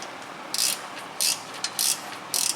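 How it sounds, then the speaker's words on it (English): A swivel-head ratcheting wrench clicks in four short, evenly spaced bursts of rapid ratchet ticks while working on a 2013 Chevrolet Malibu steering gear, heard close and alone. "ratcheting wrenches with a swivel head. Awesome for stuff like this."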